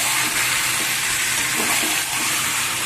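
Marinated chicken sizzles loudly in oil and spiced masala in a pan and is stirred, giving a steady, close frying hiss with soft scraping throughout.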